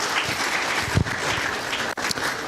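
Film festival audience breaking into applause: a steady, dense wash of many hands clapping together, fairly close and continuous for the whole stretch, with one brief dip near the end.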